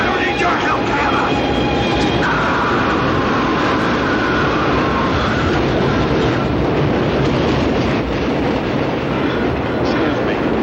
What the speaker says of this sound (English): This is one train you're gonna want to miss, Shane.